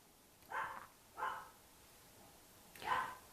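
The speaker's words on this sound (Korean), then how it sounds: "저희 집 강아지가 짖고 있네요." A pet dog barks three times in a home, muffled and somewhat distant, with a short gap after the first two barks and a louder third bark.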